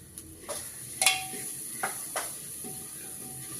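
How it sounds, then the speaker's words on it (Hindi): Ground mixed masala and turmeric fry in a pan in a home kitchen, a soft steady sizzle under a few sharp scrapes and clinks of a spoon stirring, close and quiet. "तो इसको हम अच्छे से भून लेंगे इसको।"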